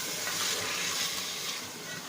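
Chicken masala frying in a pan with about half a cup of water just added, giving a steady broadband sizzle and bubbling hiss that stays loud and even throughout, with no voices.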